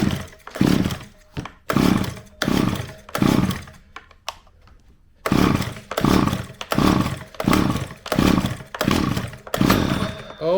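A Stihl 010av chainsaw, its carburetor just cleaned, fires up on choke and runs in loud, rhythmic revving bursts, with a brief lull partway through before it roars on steadily.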